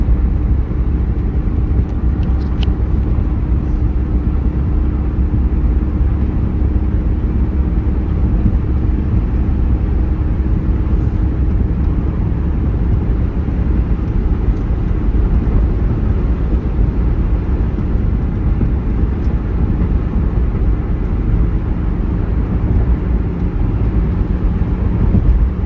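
A 2004 Ford Mustang cruising on the road, heard from inside as a constant low engine and road drone with no talk over it.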